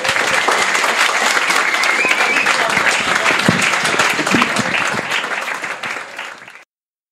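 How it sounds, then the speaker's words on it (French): Sustained applause from a live podcast audience, dense and loud throughout before cutting off abruptly near the end. "applaudissez-vous sur le sujet"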